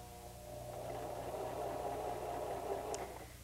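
A White 1735 sewing machine runs a zigzag stitch, a steady close mechanical whirring hum that holds level for a few seconds and then tapers, with no talking.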